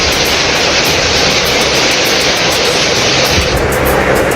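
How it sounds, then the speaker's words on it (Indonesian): Marble-sized hail pounding a lightweight steel house roof in a dense, loud, continuous roar of impacts that stays steady throughout, with no voices. "Butiran es sebesar kelereng jatuh menimbulkan suara gaduh saat menghantam atap rumah berbahan baja ringan."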